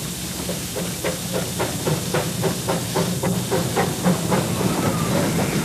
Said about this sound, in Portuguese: o trem chega à estação de Darjeeling.